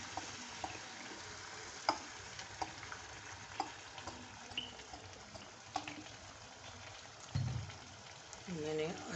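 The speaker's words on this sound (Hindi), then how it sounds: "मैंने ऑयल भी डाल लिया है। मैं इसको अच्छी तरह भून लूँगी" Ground spices frying in about a cup of oil for karahi gosht, a faint, steady sizzle with scattered small crackles and clicks of stirring throughout, briefly lifting near the end.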